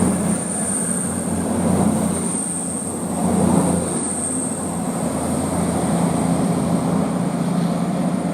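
A train runs through Banbury station on the Chiltern Main Line, a steady rolling rumble with a faint high-pitched wheel squeal, continuous throughout at moderate distance.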